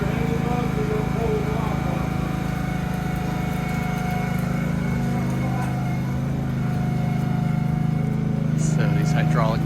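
Hydraulic pumps push pistons to jack up a house during a riverside house raise on the Humptulips River, giving a steady, loud engine-like drone that runs unbroken throughout, with a faint knock near the end.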